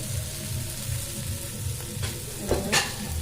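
Curry being sautéed and stirred in a pan, a steady sizzle with scraping spoon strokes, a couple of louder clatters near the end, close by with no talk.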